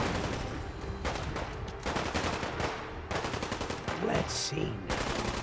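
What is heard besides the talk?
gunfire from a battle in Fallout 4 with Sim Settlements 2, video game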